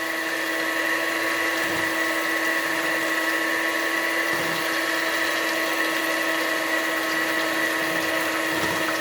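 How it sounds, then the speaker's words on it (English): Blender whirring steadily through pumpkin pie filling with brown sugar, a loud continuous motor drone with a high tonal whine, running alone without pauses. "You also want to blend it enough that you get the brown sugar good and dissolved through it."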